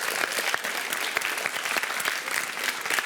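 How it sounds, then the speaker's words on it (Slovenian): Sustained applause from an audience at a school quiz show, dense crisp clapping throughout with a few louder claps standing out. "En velik aplavz za Jošta."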